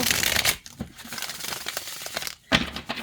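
Thin tarot cardstock being flexed and handled, crisp crinkling and rustling bursts close by, loud at the start and again near the end.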